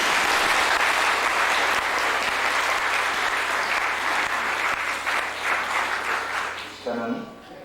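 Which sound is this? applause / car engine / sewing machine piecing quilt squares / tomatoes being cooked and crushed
applause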